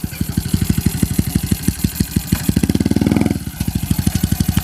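A Honda Wave 110i fitted with an aftermarket exhaust and upgraded cam pulls away up close, its exhaust pulsing rapidly and evenly, swelling into a brief louder rev near the end before settling back to a steady rhythmic throb.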